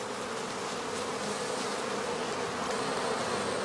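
A dense, steady hum of many bees swarms close around a straw skep hive on a heather outstand near Dorfmark, a continuous drone with no voices.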